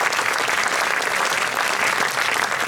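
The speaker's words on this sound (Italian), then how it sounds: "Farei l'applauso al clarinetto" Dense, continuous crowd applause for a clarinet player at an outdoor music event in Sardinia, loud and even throughout.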